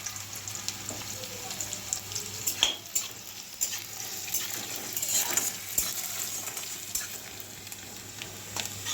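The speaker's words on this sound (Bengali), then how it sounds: "এখন আমি পেঁয়াজটাকে ভালো করে তেলের মধ্যে ভেজে নেব যতক্ষণ না পেঁয়াজের কাঁচা গন্ধটা যাচ্ছে।" Chopped onion fries in hot oil in a pan for a small-fish chorchori, giving a steady, close sizzle with a few sharp clicks from stirring and no talk.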